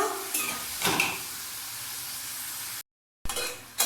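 Pointed gourd (potol) slices frying in hot oil for a potato-potol chop, a steady soft sizzle with a few stirring scrapes near the start, a brief cut to silence, then the sizzle returning.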